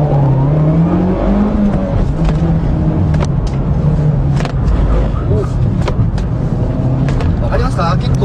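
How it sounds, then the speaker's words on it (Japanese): A Mitsubishi Lancer Evolution X drives with its active stability control switched off, its engine droning and whirring steadily and loudly inside the cabin while someone talks throughout. "この AC をオフにすることでブレーキの制御が介入してきて、より車がパンパンパンって曲がっていくようになるんですね。"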